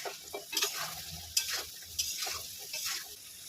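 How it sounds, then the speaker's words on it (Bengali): Boiled elephant foot yam pieces with turmeric frying in oil, a close sizzle broken by several sharp stirring scrapes and knocks of a utensil against the pan, with no one speaking. "এবার আমি এই ওলকচুগুলো সেদ্ধ করে রেখেছিলাম ভেজে নেব।"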